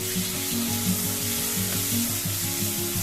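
Onion and ripe tomato sauté in a pan for a yam tamarind curry, giving an even, unbroken sizzle beneath steady background music.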